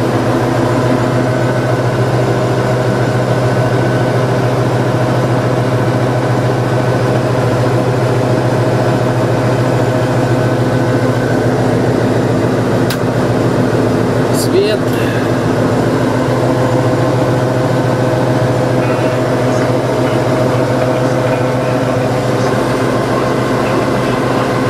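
Kirovets K-700 tractor engine running in an assembly shop, a loud, steady low-pitched diesel drone with constant harmonic hum throughout and a few brief clanks midway, no speech.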